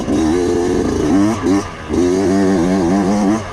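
A Yamaha YZ125X two-stroke dirt bike accelerates hard close by, its buzzing engine climbing in pitch and dropping briefly twice for gear shifts before winding up again.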